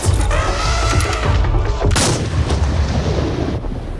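Heavy, booming gunshots ring out during a realistic video game hunt, several loud blasts in succession with rumbling echoes and a dense, continuous roar between them.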